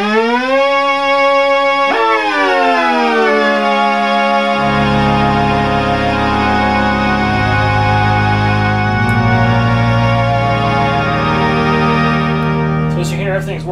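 A restored Polymoog synthesizer plays a sustained, harmonically rich chord. Its pitch swoops upward with the pitch bend, the low notes then shift, and it holds steady and loud to the end.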